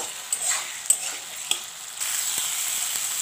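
Tomato fried in a pan with cardamom, cloves and a little cinnamon for a cauliflower dish, giving a steady soft sizzle with a few sharp stirring clicks and scrapes, close and alone without talk.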